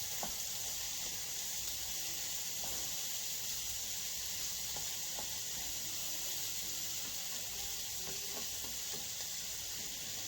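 Chopped ingredients sauté in a hot pan in a home kitchen, giving a steady, even sizzling hiss throughout with occasional faint crackles and pops.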